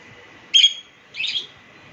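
Pet birds in a small garden give two short bright chirps about half a second apart, close and clear against a quiet background.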